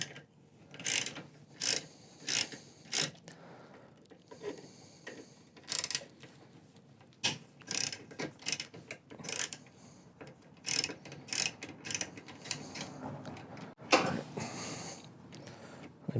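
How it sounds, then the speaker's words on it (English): A hex wrench ratchets out rusted 5mm hex-head screws holding the MAP sensor on a Jetta 1.8T. Crisp ratchet clicks come in short bursts with pauses between them, close and distinct, and nobody speaks. "I'm going to go ahead and release these screws."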